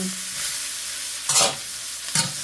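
Leftover grilled barbecue pork chop is stir-fried into adobong sitaw in a pan, a continuous sizzle broken by two loud scraping stirs of the spatula near the end, with no talking.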